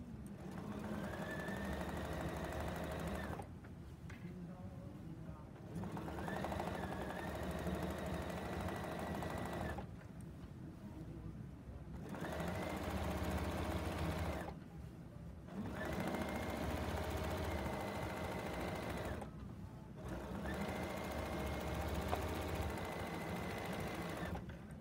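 A sewing machine stitches a quilt binding in steady bursts of several seconds each, broken by short pauses as the fabric is turned at corners, close and clear with no talking.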